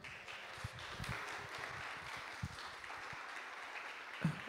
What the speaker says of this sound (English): So Alex from last year, Alexander Repti, a round of applause for him.